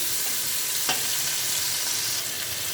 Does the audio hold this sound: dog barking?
no